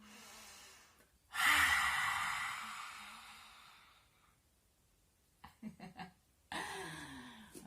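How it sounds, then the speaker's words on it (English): A person demonstrates a yoga breath, forcefully exhaling through the mouth with the tongue out: a long, loud breathy rush, then a quieter stretch, a few short puffs and a final strong exhale, close up. "exhale through the mouth while sticking our tongue out, opening our eyes wide and looking into the corners of our eyes"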